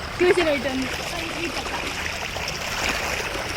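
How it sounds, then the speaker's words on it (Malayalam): Fast-flowing stream water rushes in a steady broadband wash after rain, with a brief splash near the start and a voice faintly over it. "ഓ നല്ല ഒഴുക്കുള്ള വെള്ളം"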